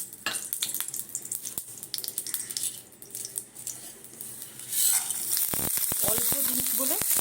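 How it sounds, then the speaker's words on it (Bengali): Spices tempering in hot oil for coconut chutney, a steady bright sizzle with stirring and pan clatter that swells into louder, continuous frying near the end. "চাটনির জন্য আমি একটু তেল দিচ্ছি ফোড়নটা দেবো"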